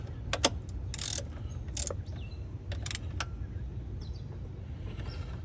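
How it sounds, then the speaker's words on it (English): A 12mm ratchet tightens the top throttle body bolts on a 2013 Honda Pilot, giving several short bursts of close, quiet clicking with pauses between them over a low background hum. "now with a 12mm, I'm just tightening the top bolts"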